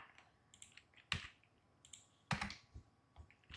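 Typing on a computer keyboard, a quiet run of close key clicks with two sharper, louder taps standing out, in an otherwise hushed room with no speech.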